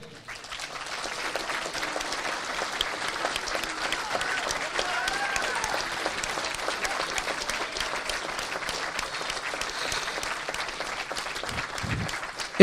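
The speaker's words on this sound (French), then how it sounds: "Moi, je vous propose de l'applaudir." Sustained applause from an audience at a French New Year's greetings event for residents, businesses and associations, steady dense clapping filling the room for about twelve seconds with a few voices mixed in.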